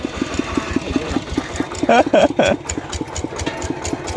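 Homemade hot rod driven by a water-pump engine runs with a steady rapid chugging beat while gears are shifted, a brief clanking rattle midway, voices talking over it.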